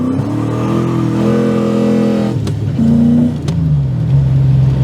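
A V8-swapped Nissan Skyline R34 runs close by once warmed up, its engine droning steadily, then dipping and rising again through a few revs, loud and alone.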